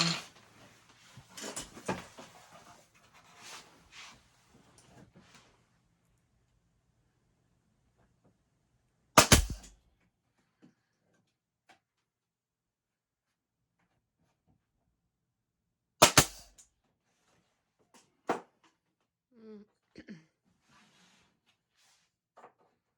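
A nail gun fastening wood while a radiator cover is built, two sharp, loud, isolated shots several seconds apart, with quieter handling knocks and rubbing in between and long silent stretches.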